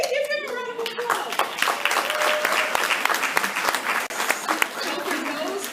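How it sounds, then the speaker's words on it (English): A room of members at a live-streamed meeting breaks into applause, dense steady clapping filling the space with a few whoops and voices mixed in, close and fairly loud throughout. "Give them a round of applause."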